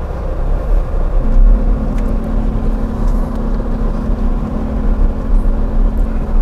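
Small VinFast subcompact electric car pulling away, a low steady rumble of tyres and cabin hum with a faint electric whine held throughout, close and continuous with no one talking.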